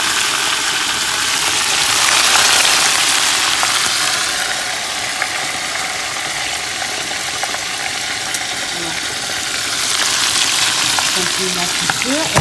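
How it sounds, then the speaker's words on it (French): Continuous loud sizzling of fish frying in hot oil, a steady crackling hiss that rises and falls slightly with occasional pops. "Et continuer ma friture."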